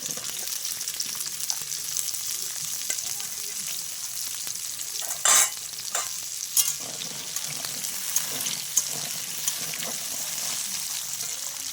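Jackfruit seeds fry in hot oil, making a steady, close sizzle with a few sharp knocks and scrapes from stirring around the middle.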